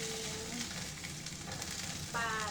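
Pork belly pan-frying until golden brown, a steady close sizzle and crackle of fat throughout, briefly joined near the end by a sharper tonal scraping or clink.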